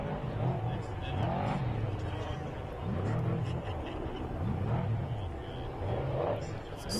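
Trophy trucks racing in the 2024 SCORE Baja 1000 roar past one after another, engines rising and falling in repeated swells at moderate distance, with people talking over the noise.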